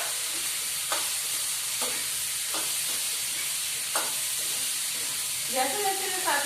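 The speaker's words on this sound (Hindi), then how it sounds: "जैसे जैसे ये साथ में फ्राई होंगे ना, वैसे वैसे इसमें दाल भी फ्राई हो जाएगी और मूंगफली भी साथ में फ्राई हो जाएगी" Peanuts and lentils frying in a pan for an Indian festival dish, giving a steady hiss and sizzle with occasional clinks of a stirring spoon; a voice speaks briefly near the end.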